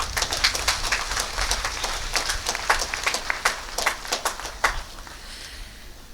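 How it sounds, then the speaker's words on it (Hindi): An audience claps at a ceremony marking a martyrs' memorial day, a steady crowd applause of dense overlapping claps that tapers off toward the end. "हम तालियां बजाएं"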